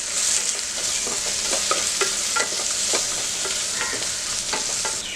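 Coriander powder, turmeric, Malvani red masala and a little fresh coriander sauté in a pot, a steady close sizzle broken by repeated scraping stirs of a spoon against the metal.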